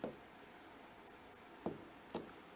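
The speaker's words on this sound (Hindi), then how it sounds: "और इस पे इंपॉर्टेंट लिख रहा" Close, soft scratching of a pen on paper as a word is written, steady rubbing strokes broken by a few sharper taps.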